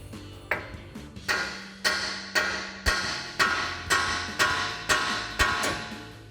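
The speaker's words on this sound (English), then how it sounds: "we can tap the side of the knuckle to pop the knuckle out from the upper control arm ball joint" A hammer taps the side of a 2021-2023 Ford F-150 steering knuckle to pop it off the upper control arm ball joint. About eight sharp metallic strikes land at a steady, even pace, each ringing briefly, close and loud.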